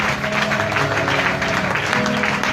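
A church congregation applauds steadily and loudly, a dense continuous patter of many hands without a break.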